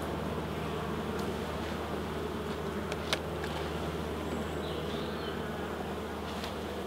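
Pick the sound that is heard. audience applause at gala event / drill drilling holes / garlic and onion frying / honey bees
honey bees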